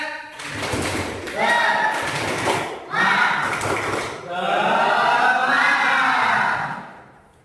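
An audience at a talk on using AI in learning performs a rhythmic spirit clap: three loud bursts of quick, patterned group clapping, followed by a sustained chorus of voices chanting together, close and filling the room.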